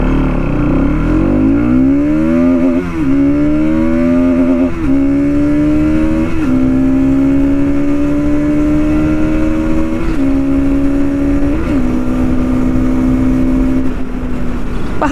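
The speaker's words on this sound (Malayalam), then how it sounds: "ഇനി നമ്മൾ ഫസ്റ്റിലോട്ട് ഇടുകയാണ്. എന്നിട്ട് നമുക്കൊന്ന് എടുത്ത് നോക്കാം വണ്ടിയുടെ പവർ ഡെലിവറിയൊക്കെ എങ്ങനെ ഉണ്ടെന്ന്." A Bajaj Pulsar NS 200 motorcycle pulls hard from first gear, its engine note climbing repeatedly and dropping briefly at each upshift, loud and close throughout with no talk.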